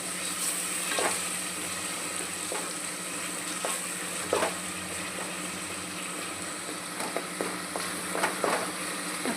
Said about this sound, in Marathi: त्याला चांगलं परतून घ्यायचं।